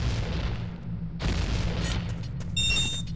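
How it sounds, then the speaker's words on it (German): A few muffled explosion booms go off over a low rumbling game soundtrack in Zelda: Ocarina of Time, followed by a bright electronic chime near the end. "Ah, die explodieren ja."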